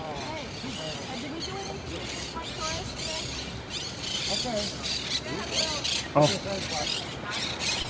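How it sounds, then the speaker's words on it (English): Parrots squawk and screech repeatedly in a busy, continuous chorus outdoors, with a person briefly exclaiming amid the calls. "You can hear the parrots squawking in the trees."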